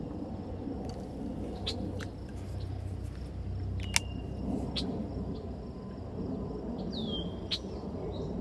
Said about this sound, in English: There's a bird right behind me actually making that noise.